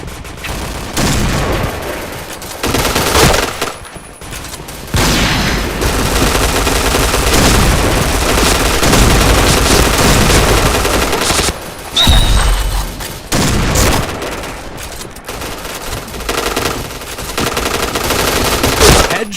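A video game firefight plays out as rapid bursts of automatic gunfire, loud and close, broken by brief pauses and a few heavier booms.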